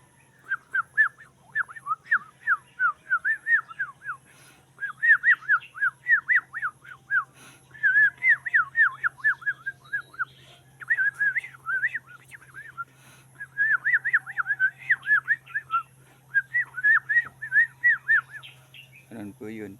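A person whistles imitations of small bird calls: quick, chirpy, warbling phrases repeated in bursts with short pauses, close and clear over a faint steady low hum, with a brief low rumble at the very end.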